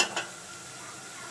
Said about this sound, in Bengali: তো চুলায় আমি একটা পাতি বসিয়েছি, আর একটু পেঁয়াজকে আমি ভেজে লাল করে নিব